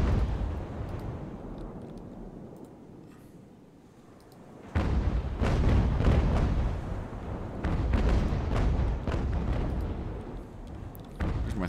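Sailing-ship cannon fire in the naval game Ultimate Admiral: a dense, rumbling barrage of heavy booms that swells after a quieter stretch and keeps rolling, loud and continuous with overlapping blasts.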